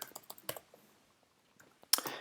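Quick keystrokes on a computer keyboard, a short burst of light clicks followed by a pause and a couple more taps, close and quiet.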